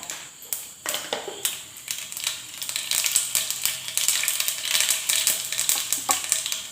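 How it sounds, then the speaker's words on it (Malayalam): Mustard seeds pop and crackle in hot oil, a rapid, irregular spattering that grows denser, with a few metallic taps of a utensil. "കടുക് പൊട്ടി തുടങ്ങിയാൽ"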